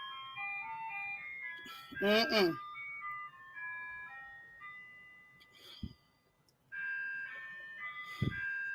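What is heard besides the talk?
ice cream truck jingle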